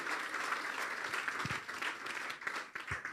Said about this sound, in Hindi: तो हम ज़ोरदार तालियां बजाएंगे ब्रदर के लिए